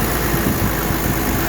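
A 1995 Mercedes E300 diesel engine idles, recorded right beside the engine: a loud, steady, dense rumble with an even low-frequency throb and no talking.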